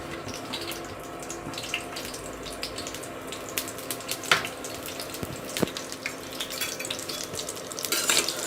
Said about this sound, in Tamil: இதில் ஆட் பண்ணிவிட்டு இந்த மாதிரி வதக்கிக்கோங்க